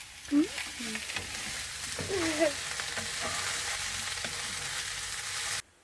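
Chopped onion frying in a pan gives a steady, close crackling sizzle with stirring scrapes throughout, while a faint voice murmurs near the start.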